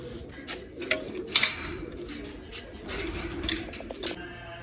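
Several pigeons in a home loft coo in overlapping low rolls, with a few sharper bird notes and flutters rising above the steady murmur.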